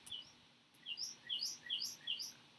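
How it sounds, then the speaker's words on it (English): A bird calling close by with a run of bright, quick chirps, about eight short notes in uneven bursts over faint background hiss. "I don't know what kind of bird that is, but can you guys hear? He sounds like he's really close."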